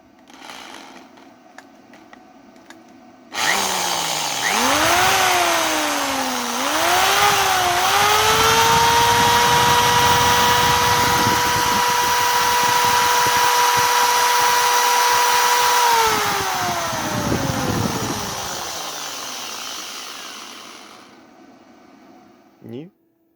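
An electric drill serves as the load on an E.NEXT 500W unit being tested after repair. The motor whines up, wavers through a few speed changes, holds a steady high hum for about ten seconds, then spins down.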